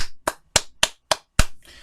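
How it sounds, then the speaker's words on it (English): Six crisp, separate hand claps in a quick, slightly uneven rhythm, close and dry with silence between them, done by a lone person as a mock round of applause. "let's give Speedy a round of applause"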